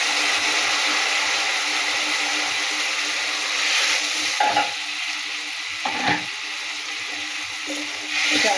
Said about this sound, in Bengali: এবারে মাছগুলো এই মশলার উপরে দিয়ে দিলাম। দিয়ে নাড়াচাড়া করছি